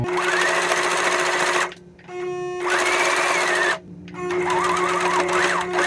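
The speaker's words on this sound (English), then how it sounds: "Now reverse and forward." Sewing machine stitching a pocket onto a shirt, running loud and close in steady bursts, back-tacking in reverse then forward, with brief pauses between runs.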